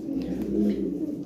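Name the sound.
Lahori toy pigeons cooing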